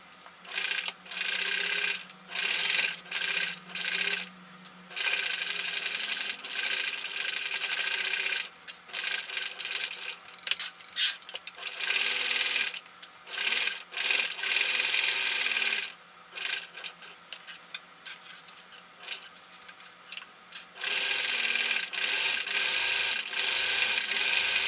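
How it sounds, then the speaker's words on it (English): A sewing machine stitches shark or dragon face mask fabric pieces together along a traced line, running in bursts of steady whirring with brief stops between runs, close and fairly loud, with no talking. "So now I'm ready to stitch these together. I can stitch right along this line that I've traced earlier"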